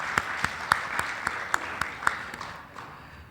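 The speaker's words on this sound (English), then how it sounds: "A round of applause, ladies and gentlemen." Conference audience applause heard as sparse, evenly spaced sharp claps, roughly four per second, that stand out over a quieter clapping background and fade toward the end.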